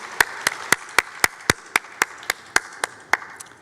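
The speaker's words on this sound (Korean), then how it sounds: "박수 올려드리겠습니다." Slow, evenly spaced claps in a church, about thirteen sharp single strikes spread over a few seconds, like one person or a small group clapping in rhythm. They ring clearly against a quiet room.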